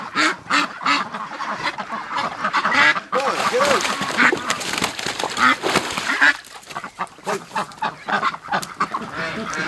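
Farm ducks, including Muscovies, quack and honk busily at close range on a freezing morning, a dense and overlapping flock chatter that continues throughout, loud and near.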